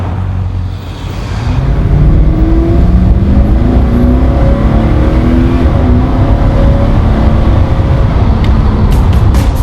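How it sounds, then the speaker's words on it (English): A Porsche 928 V8 catches and settles into a loud, deep, rumbling idle close by, then swells with throaty revs that rise and fall steadily, with no talking. "the sound of the V8 is amazing when you start it up"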